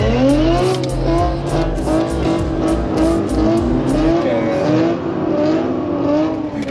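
A loud car revs hard and accelerates with squealing tires, a close rasping engine roar with steady high-pitched tire screech that fades out near the end, with no talk over it.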